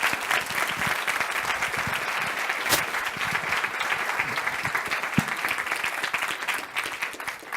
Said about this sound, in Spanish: Por favor, un fuerte aplauso para el doctor Sánchez